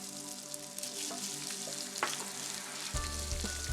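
Crushed garlic and ginger fry in hot vegetable oil, a steady close sizzle with crackling pops, and a brief stirring scrape near the end.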